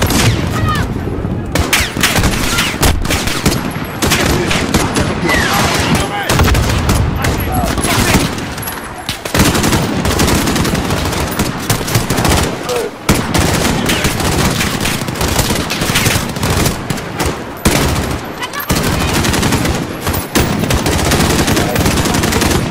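Gunfire in the video game Call of Duty Modern Warfare pounds in long, dense machine-gun bursts and fusillades, loud and nearly continuous with brief gaps, mixed with battle noise and occasional voices.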